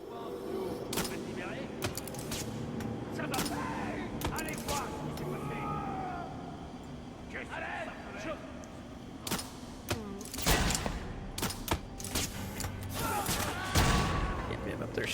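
Enemy gunfire in Batman: Arkham Origins, with bursts of shots and impacts that spike repeatedly over continuous game noise and a steady mechanical hum, loudest toward the end.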